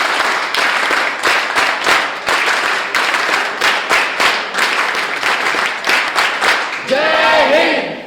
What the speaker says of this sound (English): NSS clap goes on.